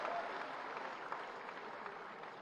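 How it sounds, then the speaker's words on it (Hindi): An audience applauds an IIFA award winner at a public speech event, a soft, steady wash of clapping from a crowd at some distance, fairly faint and even, with no voices standing out. "एक जोरदार ताली बजा दीजिए"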